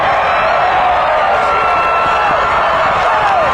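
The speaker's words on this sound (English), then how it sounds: "The crowd's going nuts." Football game crowd roaring and cheering during a comeback rally, a dense, steady wall of loud crowd noise with whoops rising through it.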